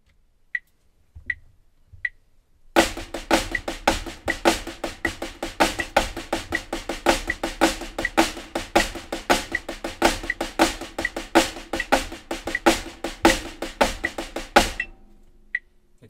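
Four bars of a drum sticking pattern with flat flams: dense, rapid, sharp strokes in an even rhythm, close and loud, set between a few sparse count-in clicks at the start and a single hit after the phrase.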